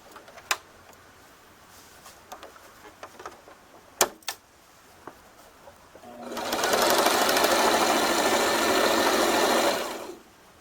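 A sewing machine stitches a T-shirt being made into a dress in one loud, close, continuous run of about four seconds, after a few scattered handling clicks.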